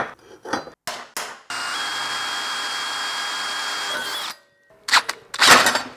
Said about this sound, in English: I'm gonna drill 6 holes in both sides on both mounts.